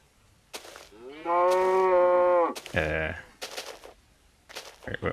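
A Minecraft cow gives one long, loud, sustained moo close by, surrounded by short sharp clicks and thuds from the game.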